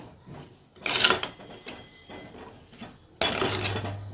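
A spoon scrapes and clinks against a pot while tamarind water is stirred into a village-style anchovy fish curry, with a few sharp metallic bursts and a low simmering hum.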